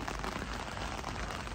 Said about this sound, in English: Weather's turned, as you can hear, absolutely chucking you down.